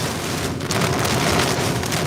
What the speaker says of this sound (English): It is raining buckets right now.